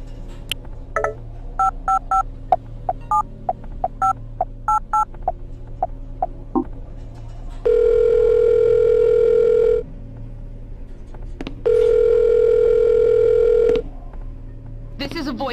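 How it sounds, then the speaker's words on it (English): Phone dialing in Silent Hill: Shattered Memories: a quick run of keypad tones, then two long steady dial tones separated by a short gap, loud and clear with no talk over them. "Gonna give it a call"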